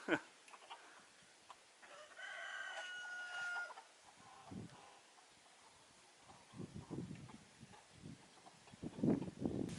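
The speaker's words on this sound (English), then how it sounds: "this is an Indian game hen with 6 little baby chicklings" Soft clucks and peeps of an Indian Game hen with six small chicks, quiet and intermittent, with a brief crowing call early on and scattered farmyard rustling.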